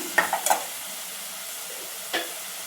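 Onion and tomato fry in a pan on the stove, making a steady low sizzle. A few short stirring scrapes come near the start and one more comes later, with no talking.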